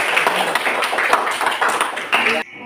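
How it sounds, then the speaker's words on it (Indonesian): A classroom of students claps for presenting student groups, a fast, dense patter of many hands that carries on steadily and then cuts off abruptly near the end, with voices faintly mixed in. "Tepuk tangan untuk kelompok 2, kelompok 3"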